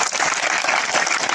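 Audience applause at a ceremony honouring kar sevaks, a continuous, dense patter of many hands clapping close by, steady and loud for the whole stretch with no speech over it.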